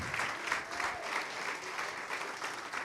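A church congregation in Carapicuíba, Greater São Paulo, applauds in a continuous soft roar of many hands clapping, even and somewhat distant, with no pauses.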